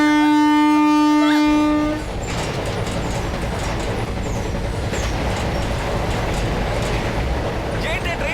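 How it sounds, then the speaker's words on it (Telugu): A train keeps running without stopping in a Telugu comedy film scene. A sustained horn-like tone sounds for the first two seconds, then a steady, loud rolling rumble and clatter of the moving train takes over. "ఏంటి ట్రైన్ ఆగలేదు?"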